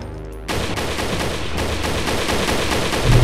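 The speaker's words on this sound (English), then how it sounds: "Here's Ken just shooting at the wall." Rapid, loud game gunfire in Doom (co-op Brutal mod) as a player shoots at a wall, starting abruptly and continuing as a steady rattling burst for about three seconds.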